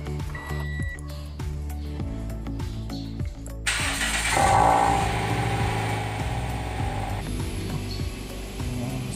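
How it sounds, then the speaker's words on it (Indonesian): A Toyota Yaris with a modified exhaust starts up with a clattering crank, then settles into a low, rumbling idle, heard close with mechanical ticking and rattles over the engine drone. "Suara knalpotnya menderung."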